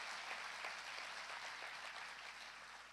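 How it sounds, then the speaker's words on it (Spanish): A church congregation claps together in a steady, even round of applause heard at moderate distance, continuous for the whole stretch and easing slightly toward the end, with no speech on top. "¿por qué no le damos un aplauso a toda la gente que nos está viendo por internet?"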